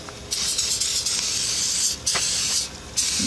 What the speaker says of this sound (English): Okay, so spray the inside.